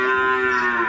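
Cattle grazing by the Asam Manis field in Pamekasan give one loud, sustained, close moo with no talk.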